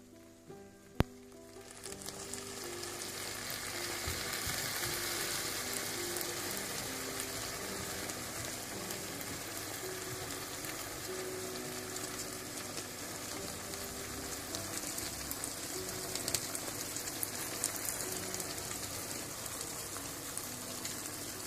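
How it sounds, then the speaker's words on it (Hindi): Syrup (shira) poured over hot, golden-brown baked baklava fresh from the oven, giving a steady, hissing sizzle that starts after a small clink and carries on evenly for about twenty seconds, close and moderately loud. "अब इसके ऊपर मैं शीरा डाल लूंगी।"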